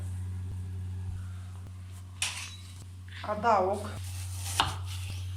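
Knife chopping already peeled onion pieces into smaller bits in a home kitchen, a few sharp board taps and a short burst of clatter over a steady low hum.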